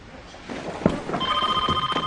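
A telephone rings indoors with a short electronic trill that repeats in quick pulses, moderately loud, following a few faint bumps and rustles.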